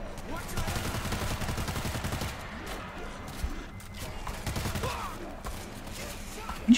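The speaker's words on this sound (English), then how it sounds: "You shot me!" Rapid bursts of gunfire in the zombie shooter World War Z, clustered shots rattling through a busy, noisy game mix, with voices talking over parts of it.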